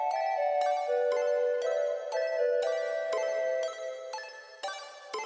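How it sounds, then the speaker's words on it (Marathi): A phone ringtone plays in a domestic scene from a Marathi TV serial: a bright, repeating melodic chime pattern, loud and close, sounding alone with no talk. "फोन वाजतोय."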